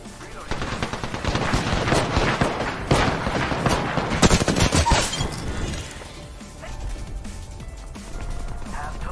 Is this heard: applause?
no